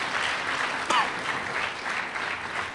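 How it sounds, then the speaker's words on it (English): A crowd at a sports banquet claps in a steady, even wash of applause that holds at the same level throughout. "so give them a round of applause"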